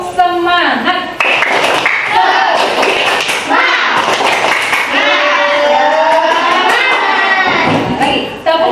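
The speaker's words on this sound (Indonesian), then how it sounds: "Tepuk semangat" Schoolchildren in an Islamic religious education class clap a rhythmic spirit clap, loud patterned hand claps and thumps mixed with their chanting voices and a teacher's speech.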